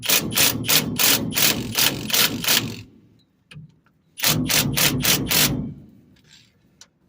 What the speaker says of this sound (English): I guess I shouldn't be using this big impact